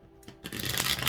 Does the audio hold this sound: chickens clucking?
no